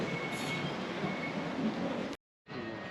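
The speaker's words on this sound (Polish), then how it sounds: "podjeżdża pociąg" Bangkok train pulling into a station, a steady loud rumbling rush of rolling carriages with a faint high whine, cutting out abruptly near the end before resuming.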